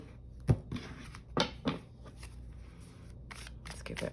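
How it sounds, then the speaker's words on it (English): Someone shuffles a deck of tarot cards by hand close up, giving several crisp riffling bursts and soft slaps with quiet pauses between them. "Let's give it one quick shuffle, and we're just going to pull from the deck"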